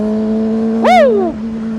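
A fast Triumph motorcycle sweeps past close by, its engine note rising then sliding sharply down in pitch within half a second, over the steady drone of a Kawasaki ZX25R being ridden.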